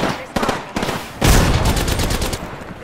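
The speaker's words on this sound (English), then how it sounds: "Getting shot at." Automatic weapons fire in the battle-royale shooter Apex Legends comes in close, loud bursts: two short rattles, then a longer heavy stream of rapid shots with echoing tails.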